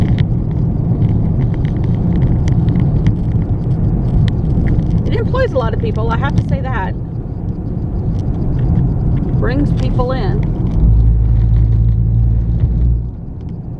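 A car crossing the Mississippi River bridge in front of a huge casino, a steady low road rumble and tire drone throughout, with people talking inside over it.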